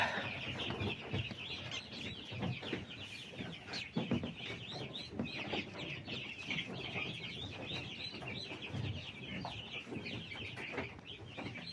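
Chickens clucking and chirping steadily at close range, including a chick just out of the egg, a busy continuous chatter of calls with no talk.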